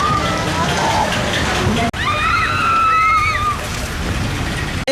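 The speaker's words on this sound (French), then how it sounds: "Les passagers sont dans ce genre de bûches qui vont flotter dans un canal" Water sloshing and splashing around a log-shaped boat floating along the water channel of a log flume ride at a fairground in Hyères, a steady close wash with talk and a brief squeal partway through.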